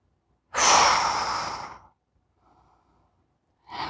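A long, strong exhalation during a yoga bow pose, close and breathy, followed by a faint soft breath and then the start of another deep breath, with no talking.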